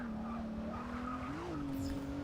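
A Rolls Royce engine held at a steady drone while its tires skid and squeal in the Forza 6 racing game, loud and continuous, with the pitch briefly rising and then settling.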